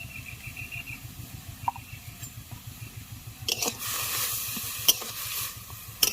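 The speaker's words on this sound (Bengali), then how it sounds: "এইভাবে নাড়াচাড়া করতে হবে হালকা হালকা জাল দিয়ে এইরকম উনানে" Oil-free chicken curry with yogurt, turmeric and Kashmiri chilli is stirred in a pan over a low flame, with a soft, steady scraping rhythm and a brighter sizzle rising in the last few seconds.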